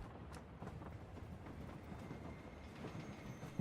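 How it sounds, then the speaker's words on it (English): A train passes in a console video game, giving a steady rumbling roar with faint rhythmic clacking throughout, with no talk. "Noisy train."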